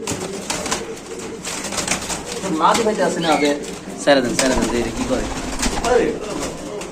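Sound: pigeon cooing

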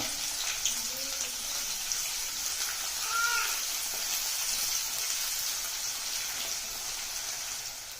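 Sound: onions frying in tempering oil

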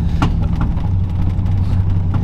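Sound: truck engine popping and revving

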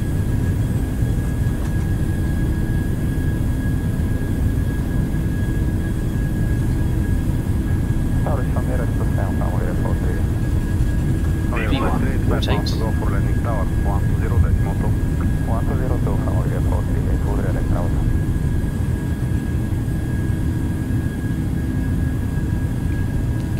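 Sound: Boeing 737 jet engines at takeoff thrust, from video game MSFS

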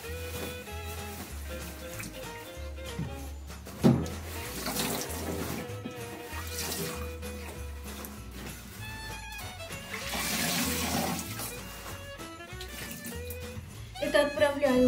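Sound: rinsing tulle curtain under running tap water

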